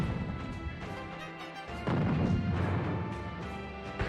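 A loud crashing boom of an explosion sounds in the 123Boom slot video game, with a heavy, sustained burst after a brief lull, set over a busy layer of game music and effects.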